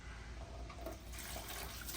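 Old coolant splashes and gurgles as it is dumped out of a Raptor 700 ATV radiator, a continuous rushing pour of liquid, close and fairly quiet.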